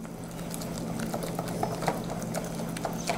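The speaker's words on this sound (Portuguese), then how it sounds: "Coloco o primeiro copo aos poucos e vou só misturando essa farinha aqui." Flour is stirred by hand into a soft homemade no-knead bread dough, with light, irregular taps and scrapes against the bowl over a low steady hum.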